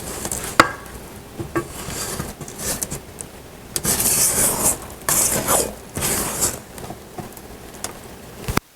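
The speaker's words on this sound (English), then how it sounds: "I'm just going to scrape down the sides" A spatula scrapes around the sides of a mixing bowl of banana cake batter, a run of close rubbing and scraping strokes in uneven bursts.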